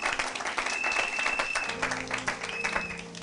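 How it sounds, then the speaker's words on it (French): A church congregation bursts into applause, dense continuous clapping from many hands filling the room at fairly close range, with faint voices and a sustained tone mixed underneath. "Acclamer pour la gloire de notre Dieu"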